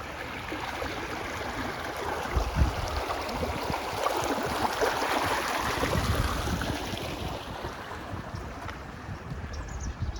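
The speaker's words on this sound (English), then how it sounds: "But right now, it's just a babbling brook." A babbling brook flowing under a small trail bridge, a steady soft rush of water with breezy wind noise over it, faint and continuous with no voices.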